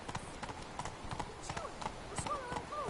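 Roach, Geralt's horse, trots along in The Witcher 3 with steady clip-clop hoofbeats repeating at close range, while soft background ambience and occasional game sound effects rise and fall around them.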